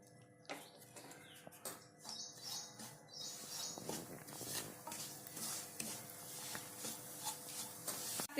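Semolina roasts in homemade desi ghee in a pan, heard as soft, close scraping and stirring strokes with a light sizzle, in irregular bursts against a quiet room, with no voices.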